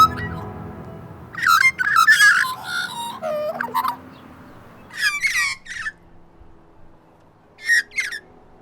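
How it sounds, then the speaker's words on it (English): An Australian magpie sings in clear, nearby bursts of warbling, squawking and fluting notes, several phrases separated by quiet gaps over faint background noise. "I don't think there's any other bird which sounds like a magpie"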